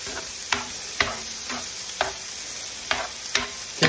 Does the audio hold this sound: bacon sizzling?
yes